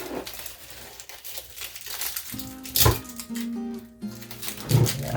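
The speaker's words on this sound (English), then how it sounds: "I'm going to cut some pieces." Halloween tape being cut into pieces at a cluttered desk, with crinkly crumpling rustles and a sharp snip or tear near the middle, fairly close and moderately loud, with no talking.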